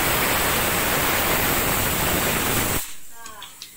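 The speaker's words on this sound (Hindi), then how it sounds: "हम लोग कुछ एक्स्ट्रा फ्राई कर रहे हैं।" Pani puri deep-frying in hot oil gives a loud, dense, steady sizzle and hiss that cuts off sharply near the end, leaving faint bubbling and small crackles.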